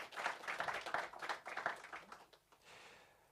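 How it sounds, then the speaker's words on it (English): Scattered applause from a press conference audience at the Absa Run Your City Series, with clapping bursts that stay fairly quiet and die away within a few seconds. "Dr. Lawrence Matai, also needs a warm round of applause"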